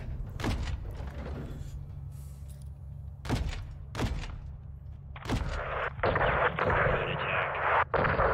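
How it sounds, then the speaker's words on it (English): Small arms fire echoes through a Call of Duty: Modern Warfare II campaign firefight near a gas station: several loud, separate gunshots with short gaps, then denser, sustained firing and rumble. "Seeing small arms fire from the gas station"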